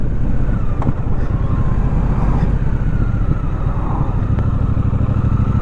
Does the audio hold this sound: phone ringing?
no